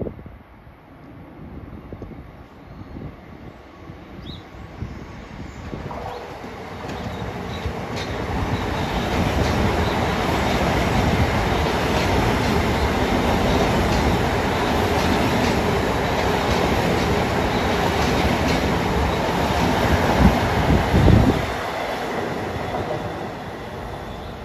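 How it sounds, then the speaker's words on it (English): A Long Island Rail Road commuter train from Grand Central to Brentwood arrives at Merillon Avenue station. A low rumble builds into a loud, sustained roar of wheels and cars, with a brief squeal near the end and no talk. "this train is 1058 from Grand Central to Brentwood that's coming"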